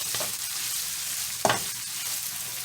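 Chopped meat and melted cheese are stirred together in a pan on a stove just switched off, giving a steady soft sizzle with one sharp utensil scrape midway.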